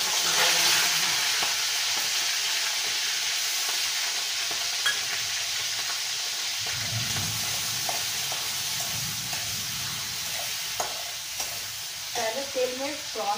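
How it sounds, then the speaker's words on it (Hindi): Two hundred grams of prawns fry in hot oil, a bright continuous sizzle with a few stirring scrapes and crackles, steady and close, easing slightly toward the end. "तेल में प्रॉन को फ्राई कीजिएगा तो बहुत अच्छा होता है।"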